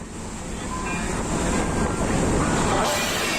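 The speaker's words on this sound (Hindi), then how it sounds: "वीडियो में साफ देखा जा सकता है कि किस तरह से तूफान की वजह से समंदर में उठ रही ऊंची ऊंची लहरें नाव को डुबो रही हैं।" Storm-driven high sea waves crash and surge around a boat, a steady loud roar of churning water and wind filling the whole stretch without pause.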